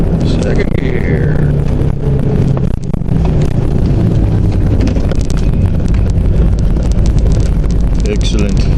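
A Jeep driven in second gear rumbles loudly and close up, its engine drone mixed with heavy wind buffeting across the microphone throughout.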